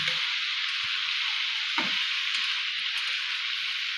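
Potatoes and meat frying in a pan, a steady broad sizzle and hiss running throughout at even loudness, with a few faint stirring knocks.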